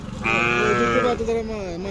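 A Khillar cow at a cattle market gives a loud, drawn-out moo lasting about a second, close by, with other livestock and market bustle behind it.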